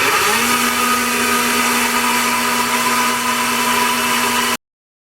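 Wide oak board fed through a jointer, a loud steady machine whine with a sustained tone running for several seconds before cutting off abruptly.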